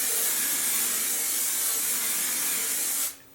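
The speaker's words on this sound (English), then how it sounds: "To seal all of this in, to add a nice finish, I will add some hairspray. This is the Verb Hold and Volume Strong Hairspray." Verb Hold and Volume Strong hairspray sprays in one continuous, close, loud hiss lasting about three seconds before cutting off abruptly.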